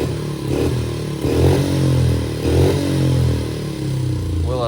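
A cheap pit bike engine runs rough and uneven, its loud, lumpy putter surging and sagging in a repeating rhythm up close, with no steady idle.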